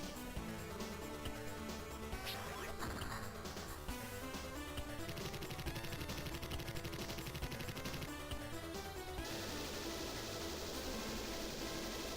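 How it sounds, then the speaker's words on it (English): Rapid machine-gun fire from a mecha battle in the Super Robot Wars J video game rattles in dense bursts, layered over continuous in-game music for the whole stretch. "we can still use the machine guns"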